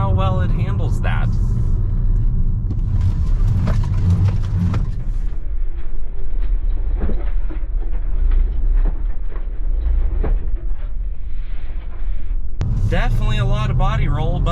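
A Kia Soul Turbo, 2017-22 generation, drives hard with a steady low road and engine rumble as it is thrown through a quick direction change, with someone speaking over it before and after.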